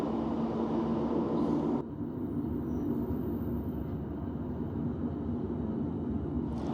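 Passenger train on the South Fylde Line near Kirkham Junction, heard from inside as a steady, loud low rumble of wheels and motor, with a brief shift in tone partway through.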